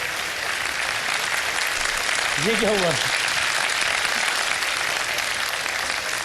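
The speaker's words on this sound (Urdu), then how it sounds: "یہ کس کے لیے زیادہ تالیاں بجی ہیں" A studio audience at a live Ramadan iftar television show claps in a steady, dense wash throughout, while a voice briefly speaks over the applause partway through.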